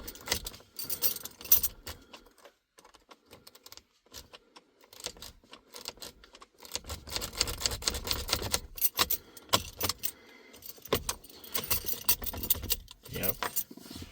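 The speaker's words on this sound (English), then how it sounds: "I'm going to flip the key around. Still nothing. And again, there is a little bit of a crunchiness to it." Ignition key in a Hyundai Sonata worked back and forth in a lock cylinder that won't turn past accessory, giving faint jangling clicks and a slightly crunchy grind in short bursts, with quiet gaps and some movement noise between attempts.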